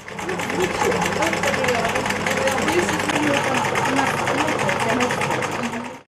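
A homemade net-weaving machine, built from household scraps around the motor of an old washing machine, runs steadily with a dense rapid mechanical clatter and motor whir, loud and continuous for about six seconds before stopping.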